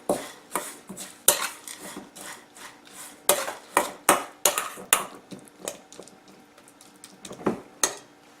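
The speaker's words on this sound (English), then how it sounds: "So now I'm going to mix these ingredients together." Mashed banana and oats mixed together in a bowl, a series of close, rhythmic clinks and scrapes of a utensil against the bowl, some strokes sharper and louder than others, with no talking.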